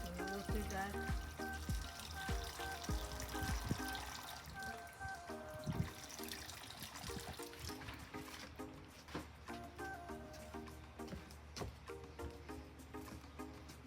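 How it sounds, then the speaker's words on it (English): Fertilized water mixed with MSG trickles and pours onto a repotted croton plant in a pot, a soft continuous splashing and dribbling with small irregular drips throughout, fairly quiet and close. "I have a water mixed with the MSGs, fertilized water with MSG. So we water that."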